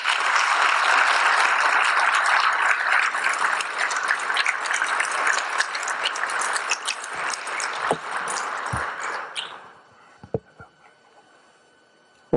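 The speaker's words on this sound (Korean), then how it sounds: "우리 큰 박수로 우리 목사님 올라오실 때 환영하겠습니다" Church congregation applauding to welcome a pastor to the pulpit, a strong, dense burst of clapping that holds for several seconds, thins out, and gives way to a few scattered claps and quiet near the end.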